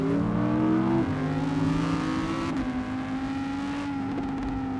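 Audi R8 RWD engine revving, a loud close engine note whose pitch steps down at gear changes and then holds a steady rising drone, alone without talk.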